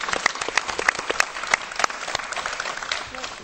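Scattered clapping from a studio audience on an education talk programme, a brisk run of separate sharp claps that thins toward the end, with faint voices underneath.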